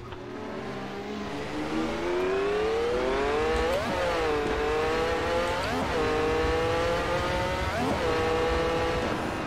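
A Ferrari 312T engine in a VR driving game revs steadily and loudly, its pitch climbing and then dropping sharply at each paddle upshift, with several shifts spread through the run.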